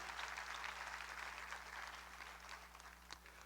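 A church congregation claps for the King at a pastor's study on the tabernacle, producing a steady, moderately faint patter of many hands with a low hum underneath and a single sharper clap near the end.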